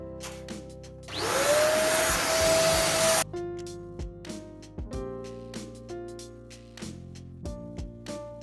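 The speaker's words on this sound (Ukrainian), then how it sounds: "Ну що, ось такий пилосос." A vacuum cleaner whines up loudly for about two seconds and then cuts off, followed by a string of clicks and knocks as it is handled.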